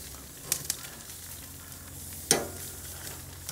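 Pork secreto steak sizzles steadily in a hot pan, with a few sharp clatters as it is turned and a loud burst of fresh sizzle midway through.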